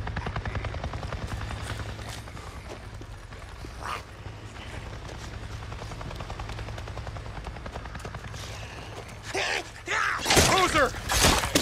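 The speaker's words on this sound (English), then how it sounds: "A Nero chopper! It just buzzed right over me and acted like I wasn't even there!" A Nero helicopter in the video game Days Gone passes overhead, a continuous low rotor thrum with mechanical whine that swells into louder bursts near the end.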